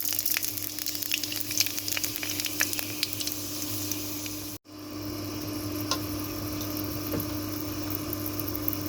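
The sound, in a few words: panch phoron spices sizzling in hot soybean oil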